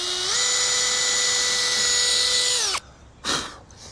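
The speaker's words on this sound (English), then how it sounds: "I'm going to pre-drill holes." A power drill pre-drills holes for decking screws while building a timber sandpit, a loud steady whine held for nearly three seconds before winding down, followed by a short second burst.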